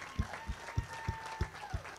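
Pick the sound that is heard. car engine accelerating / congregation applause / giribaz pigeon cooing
congregation applause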